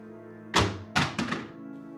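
A gun tossed down onto a wooden floor in a forest thriller, landing with a heavy thunk and then two smaller bounces, close and distinct over a quiet low hum.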